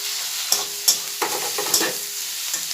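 Cut fish pieces fry in spiced oil with a loud, close sizzle and crackle, interrupted by several sharp utensil scrapes and clinks against the pan.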